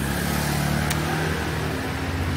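A car engine runs steadily on a narrow street in Danang, a continuous, fairly loud mid-range drone that carries through the whole moment with no talking.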